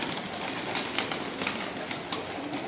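Pigeons cooing close by in a soft, steady murmur of calls, with brief brighter accents scattered through a short stretch and no talking.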